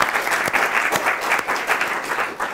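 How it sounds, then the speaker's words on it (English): An audience at a philosophy talk claps in a steady, brisk burst of applause, close and fairly loud, with no talking over it. "This morning's speakers didn't get applause beforehand, did they?"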